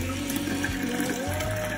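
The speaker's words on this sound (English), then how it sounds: "We are in the bathroom emptying this out. This is from the carpet machine." Dirty water from a carpet cleaning machine is poured out in a bathroom, a steady continuous splashing, gushing flow close by with no speech.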